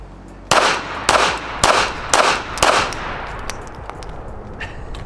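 Five sharp shots from a Ruger LCP Max .380 compact pistol fired at five yards, evenly spaced about half a second apart, loud and close with ringing echo trailing after each.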